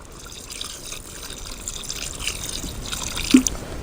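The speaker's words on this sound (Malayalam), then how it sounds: "ഇനി നമുക്ക് 2-ാം പാൽ ഒഴിക്കാവേ." Thin second-extract coconut milk is poured into a simmering duck curry in a pot, making a soft continuous liquid splash and trickle with a brief drip near the end, low and close.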